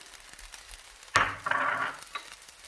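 Diced bacon, vegetables, pineapple and spring onions hit a hot pan and are stirred, a sudden loud sizzle burst followed by a steady frying hiss that fades, close by with no talking.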